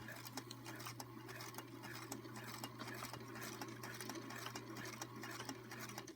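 A sewing machine runs steadily with a quilting edge joiner foot, stitching quilt fabric with lace. A constant low motor hum and a fast rhythmic needle patter carry on throughout, close and even, with no talk.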